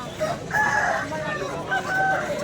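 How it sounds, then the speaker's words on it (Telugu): Native country roosters crow at a rural poultry market near Vijayawada. Two or three crows carry over steady crowd noise and clucking, loud and close, with long held notes. "కోళ్ళు అయితే మంచి యాక్టివ్గా ఉన్నాయి"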